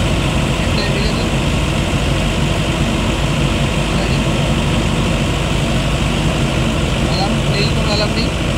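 A 50 kVA diesel generator engine runs at normal temperature and oil pressure, giving a loud, unbroken low drone with a steady mechanical rumble throughout.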